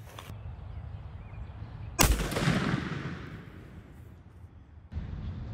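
A Remington shotgun loaded with a 2 3/4 inch 4-shot shell fires once outdoors at a 50-yard target: a single loud, sharp blast followed by a long fading rumble over faint background noise.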